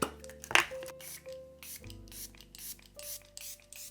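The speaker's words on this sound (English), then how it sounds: "I'm gonna go with my Makeup Revolution Super Fix Super Hold Misting Spray." Several quick, close hissing spritzes from a Makeup Revolution Super Fix Super Hold setting spray bottle misting onto a face, fired in an uneven series of bursts.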